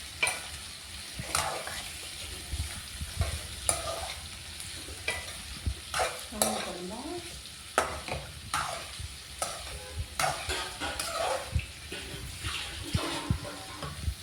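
Rice and drumsticks being stirred in a pot on the stove: repeated scraping and wet swishing strokes with light sizzling underneath, fairly quiet and close, no talking.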